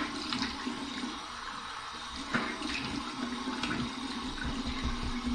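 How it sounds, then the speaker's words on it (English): Cold water running and splashing from a tap during a rinse after shaving, a steady broadband rush with a few brief louder splashes, close by and alone without talk. "Here's my cold water rinse."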